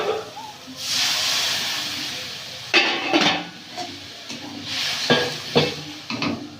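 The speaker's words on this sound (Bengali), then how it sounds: "মশলা থেকে তেল ছেড়ে গেছে জলটা দিয়ে" Water poured into fried spice masala in a village kitchen pan bursts into a loud hissing sizzle, then settles as a spoon stirs through it with bursts of scraping and renewed spitting steam.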